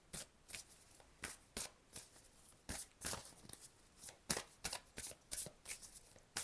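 Tarot cards shuffled by hand at close range, a rapid run of crisp riffling bursts in an uneven rhythm, heard alone with no talking.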